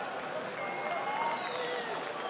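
Crowd at a Latvian boxing event, a World Boxing Super Series final, cheering and clapping in a steady, dense wash of noise that stays loud throughout.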